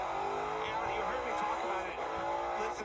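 NASCAR Cup race cars at Circuit of the Americas heard through in-car audio, a constant high engine drone with shifting revs, mixed with a commentator's talk.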